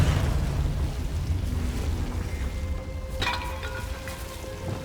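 A Confringo blasting spell explodes in Hogwarts Legacy, a dense rumbling burst with a sharp crackle near the middle, layered over steady game ambience.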